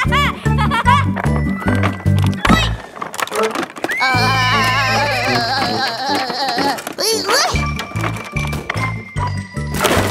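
A cartoon horse whinnies in a bright children's animated New Year episode, a short high neigh rising over jingling music and playful sound effects, with cheerful voices talking around it.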